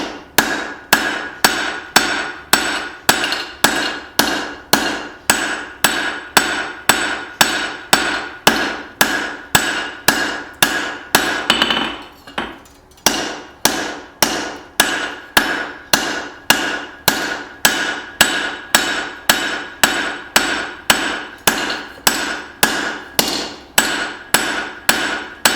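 Heavy hammer blows forging hot steel into a double-sided axe ring out loud and close in a fast, steady rhythm of about two strikes per second, with one brief pause midway and no talking.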